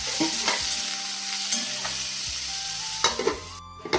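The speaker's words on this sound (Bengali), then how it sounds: "তো ভাজাটা দিয়ে ভেজে নেবো।" Beetroot and carrot pieces fry in oil with salt and turmeric, a continuous close sizzle broken by scraping stirs and clattering spoon knocks, ending abruptly.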